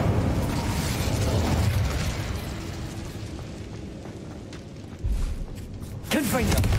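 An Incendio fire spell in the game Hogwarts Legacy: a dense, sustained roaring crackle of flame fills the scene, thinning out and then flaring up again with a sharp burst near the end.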